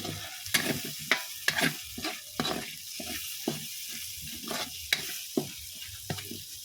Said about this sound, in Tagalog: Ilagay na natin yung ating bawang.